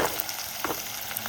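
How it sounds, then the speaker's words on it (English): Onions frying in lard, stirred in the pan, a soft steady sizzle with a few light scraping taps, faint and brief with no talking. "give that a little stir, shall we?"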